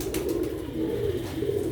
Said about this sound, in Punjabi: ਇਹ ਦੇਖੋ ਬਾਂਗਾ ਕਬੂਤਰ ਇਹਦੇ ਨਾਲ ਗੋਲਡਨ ਮਾਰਦੀ